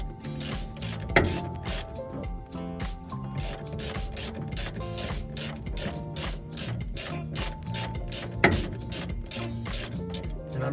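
A ratchet clicks in quick, steady bursts while tightening a bolt on a Wilwood brake install on a 1967 Mustang, close and crisp with a couple of heavier clunks along the way.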